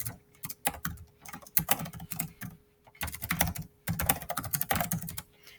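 Quick bursts of typing on a computer keyboard as an email address is entered, close and crisp key clicks in uneven clusters separated by short pauses.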